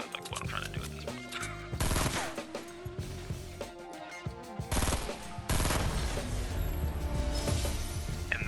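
Bursts of game gunfire in Fortnite, a few loud shots and short rapid volleys scattered irregularly across the clip among other in-game effects and clatter.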